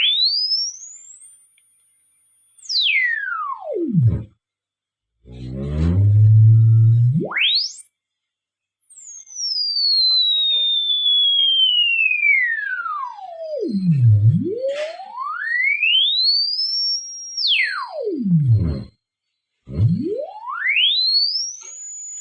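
A frequency test tone through an amplifier's output transformer into a 4-ohm speaker sweeps up and down in long glides between high whines and low hums, repeated several times at moderate volume with brief silent gaps.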